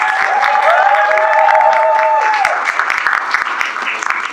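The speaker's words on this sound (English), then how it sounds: "let's give her a big round of applause" A crowd at an International South Asian Film Festival special event bursts into loud applause, mixed with a sustained whistle-like cheer that glides and holds before fading, clapping continuing strongly afterward.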